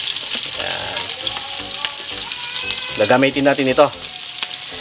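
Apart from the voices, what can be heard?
dried fish (tuyo) frying in hot oil in a pan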